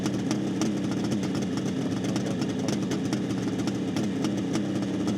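A fully rebuilt 1972 Kawasaki H2 750 Mach IV two-stroke motorcycle engine runs at a steady, raspy idle with a rapid, buzzing pulse, loud and close, with no one talking.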